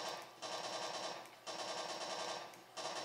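A P90 firing in a video game, three long bursts of rapid automatic fire separated by short pauses, loud and close with no talking.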